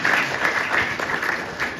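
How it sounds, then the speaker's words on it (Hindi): A church congregation claps for God at a sermon, with brief dense applause filling the room, fairly loud and close. "अपने परमेश्वर के लिए ताली तो बजा दीजिए।"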